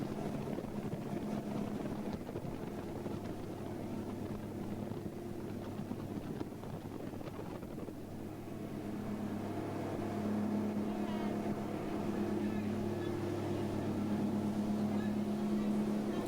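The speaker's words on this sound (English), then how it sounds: "We stopped at Icy Strait Point and we went out looking for wildlife on a boat." A wildlife tour boat runs on the water at Icy Strait Point, Alaska, during a whale watch. Its motor drones steadily and fairly close throughout, with a low hum and tonal whine that rise slightly partway through.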